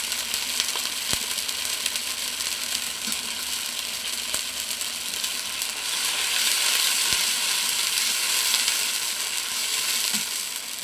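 Onions and chilies sizzle steadily in a pan, the frying swelling louder partway through as water and ginger paste go in, with a few sharp clicks of a utensil against the pan and no talking.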